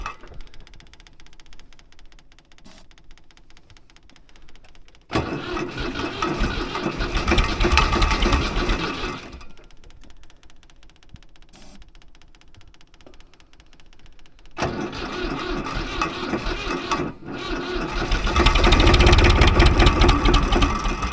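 A tractor engine with its throttle opened alternates between a quieter idle and two loud revving bursts that swell and hold for several seconds, close by.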